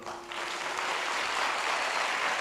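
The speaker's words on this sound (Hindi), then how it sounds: "अगर आप यीशु के लिए ताली बजा रहे हो तो अच्छे से बजाओ" A congregation at a Christian worship service claps together in steady, dense applause, swelling quickly and holding at an even level.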